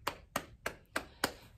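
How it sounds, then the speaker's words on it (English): Five sharp claps or stomps land at an even, brisk pace, keeping time with a children's action song. Each hit is close and clear, with quiet pauses between them and no talking. "Clap, clap, stomp, stomp."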